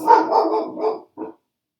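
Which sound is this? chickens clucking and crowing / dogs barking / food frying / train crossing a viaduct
dogs barking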